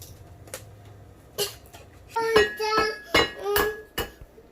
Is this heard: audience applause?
no